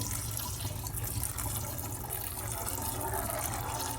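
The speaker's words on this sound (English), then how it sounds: "Throw away the new water. Put in more new fresh water." Water for washing soybeans is poured off and replaced in a kitchen. A steady, faint splashing and running flow continues without a break.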